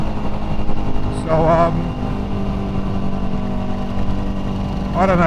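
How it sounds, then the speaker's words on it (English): A 2005 Yamaha WR450 dirt bike engine idles loudly, then gives two quick revs that rise and fall, while someone talks over the steady engine noise. "This bike is so loud, it's ridiculous."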